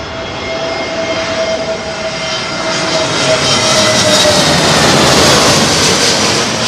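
A Qatar Airways Boeing 777-300 jet from Doha roars steadily on approach to land at London Heathrow in blustery sunset wind, its loud engine noise building and sweeping closer, with no talk.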